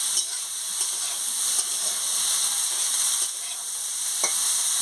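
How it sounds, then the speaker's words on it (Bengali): Spices, salt and gima shak frying for a Bengali chorchori while being stirred in a pan: a loud, steady sizzle with a few scraping stirs of the spoon, and no voices. "এবার ভালো করে একটু নাড়িয়ে নেব"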